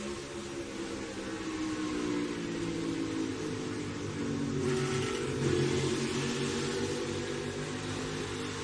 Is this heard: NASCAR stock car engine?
yes